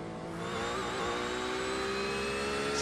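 A GT3 race car's engine in a racing video game at Spa holds a steady, loud whine with rising and falling harmonic tones, sounding continuously and alone with no talk.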